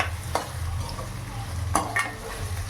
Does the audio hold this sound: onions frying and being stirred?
yes